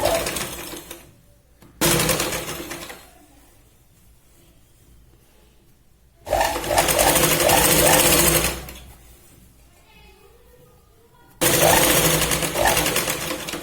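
Sewing machine stitching a Punjabi dress cut from a sari, running in three loud bursts of steady whirring separated by quiet pauses.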